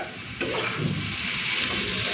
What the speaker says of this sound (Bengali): এটাকে একটুখানি সর্ষে বাটা দিয়ে ভাজবো